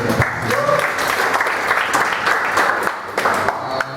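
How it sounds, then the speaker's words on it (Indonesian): Loud, sustained audience applause at a stand-up comedy show, a dense crowd clapping evenly throughout with a few sharper individual claps standing out near the front. "Sebelumnya kita tepuk tangan dulu buat kalian yang"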